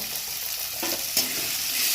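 Steady sizzling of spices and garlic frying in a pan for banana flower curry, with a brief stirring scrape near the middle; close and continuous, no voices.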